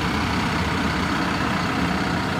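A 2011 CAT TH336 telehandler with a 127-horsepower diesel engine runs steadily and loudly close by, a constant low rumble with no pauses and no talking.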